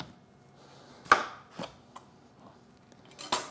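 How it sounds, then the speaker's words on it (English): Kitchen knife cutting a raw butternut squash in half on a cutting board, with a sharp chopping thud followed by a few softer knocks and a final crisp cut, close and fairly loud. "Stand it up on its flat side, and we'll cut this straight in half down the middle."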